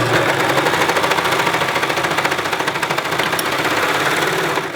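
A sewing machine stitches two layers of scrap sequin fabric, a steady, loud mechanical whirr with a rapid needle rhythm running continuously and alone, close by.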